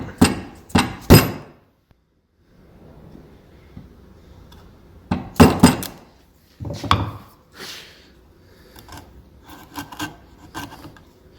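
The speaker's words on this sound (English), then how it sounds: "you can feel the chisel just fall into that line and make the cut" A chisel cuts a door hinge recess into wood, struck by a mallet in clustered sharp knocks, with quieter scraping and paring strokes between the blows, close and alone.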